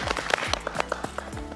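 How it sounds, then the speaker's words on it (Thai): A studio audience applauds at a Thai reality show, with scattered, uneven hand claps and a few sharp louder claps over a low hum, sounding fairly close and thinning out toward the end. "ขอเสียงปรบมือให้กับน้องคอปเปอร์ฟีฟ่า"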